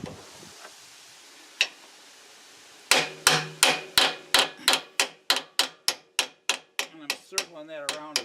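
A hammer strikes a new oil seal around its edge as it is driven into a classic Mustang 8-inch rear axle housing: after a single early tap, about fifteen sharp, evenly spaced metallic blows ring out close and loud.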